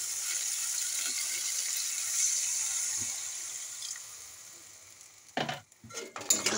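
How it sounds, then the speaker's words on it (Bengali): In a fish curry being cooked, a pan of fried spice paste with boiled potato simmers with a soft, steady sizzle, then water splashes in with a few sharp, loud bursts and stirring near the end. "এবারে দেবো জল।"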